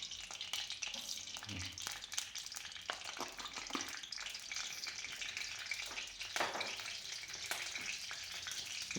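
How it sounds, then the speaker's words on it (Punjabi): Hot oil sizzles steadily in a pan for a Punjabi tamarind dish, heated until the foam settles and ready for fenugreek seeds. The crackling fry noise stays close and even, with some faint clinks and no talk. "ਆ ਤੇਲ ਦੀ ਆਵਾਜ਼ ਆ ਗਈ ਆ ਝੱਗ ਇਹਦੀ ਹਟ ਗਈ ਆ ਹੁਣ ਸਾਨੂੰ ਪਤਾ ਲੱਗ ਗਿਆ ਵੀ ਤੇਲ ਗਰਮ ਹੋ ਗਿਆ"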